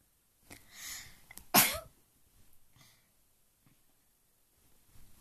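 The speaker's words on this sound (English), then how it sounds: "Sorry guys, I sneezed." A single sharp sneeze, preceded by a breathy inhale, sounds close and fairly loud in an otherwise quiet room.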